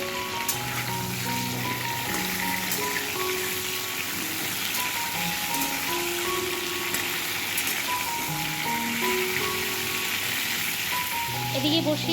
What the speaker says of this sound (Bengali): ওদিকে দেখতে পারলে বসিয়ে দিলাম পটল ভাজাটা